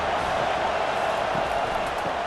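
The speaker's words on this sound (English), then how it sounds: "This crowd bringing the energy and noise early." Crowd at a football game roars steadily, a dense wash of cheering and noise from a large stadium audience, sustained and even throughout with no distinct voices standing out.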